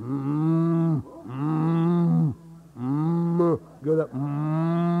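A voice imitates a cow's mooing in several long, drawn-out lowing calls with brief pauses between them, close and loud.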